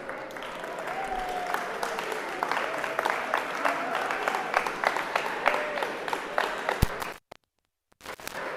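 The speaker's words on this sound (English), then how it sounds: "I like the synchronized clapping." An audience at a robotics competition qualifier claps in unison, a long run of evenly spaced, sharp claps under a constant crowd murmur, ending in sudden silence near the end.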